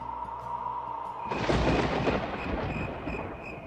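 Thunder for a stormy Baishakh-month evening in a Bengali village ghost story: a low tonal drone gives way to a sudden loud, full crash that rolls on and slowly fades.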